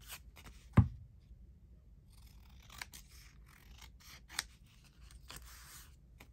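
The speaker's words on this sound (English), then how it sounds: "I didn't snip my other corners, but I think I'll snip them on here" Scissors snip the corners off paper pieces during envelope crafting, one sharp close snip near the start followed by a few quieter cuts and faint paper handling, with no talking.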